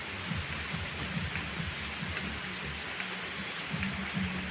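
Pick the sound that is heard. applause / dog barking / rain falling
rain falling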